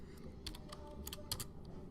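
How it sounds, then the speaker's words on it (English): Quick, light keystrokes on a computer keyboard tap in short irregular bursts, fairly quiet and close, with no talking. "You guys can't see what I'm typing anyway"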